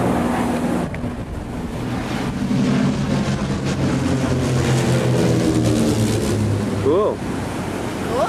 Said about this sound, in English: It was pretty windy.